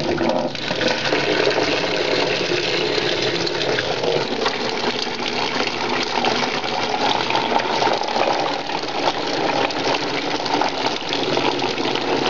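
Water poured into a vertical indoor container living wall, a steady, dense rushing and gushing flow that continues unbroken throughout, close and fairly loud, with no voices.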